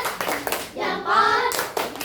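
Hands clap in a brief patterned classroom cheer after a salute during a teaching session, short bursts of claps broken by a spell of sung or chanted voices.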